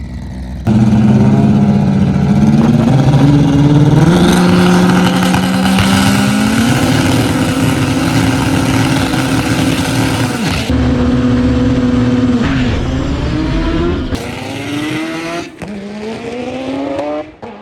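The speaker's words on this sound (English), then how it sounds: "Both of these hot rods just sound like they're ready to rip." Hot rod race cars at a qualifying event roar loudly up close, engines revving hard through rising pitch sweeps and sustained high notes, with shifts and a brief drop before another car's engine takes over.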